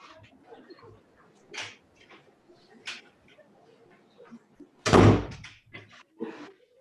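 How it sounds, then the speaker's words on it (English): A door pulled shut indoors lands as a single loud, sharp thud near the end, after several quieter household knocks and rustles. "I have to close my door or you're going to hear my dogs barking."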